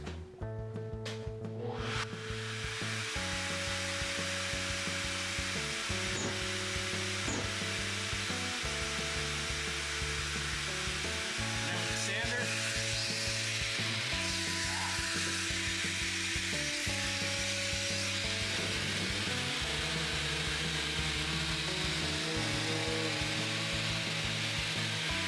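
A SurfPrep POV-8 shop vacuum runs steadily and loudly for about twenty-five seconds as a broad whooshing drone. Choppy tonal hums start and stop over it, like a sanding tool cycling on and off in a workshop.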